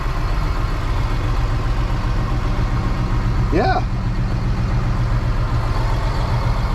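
Tractor engine with mechanical front wheel drive idling in park, a steady low rumble running unbroken and fairly close throughout, with a brief higher squeak or whistle partway through and a short spoken word over it.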